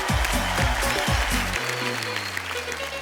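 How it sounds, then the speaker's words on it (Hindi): Studio audience on a Hindi celebrity talk show claps briefly, a short burst of applause layered over a thumping musical sting that settles into a held low tone. "तो जोरदार तालियां हो जाए"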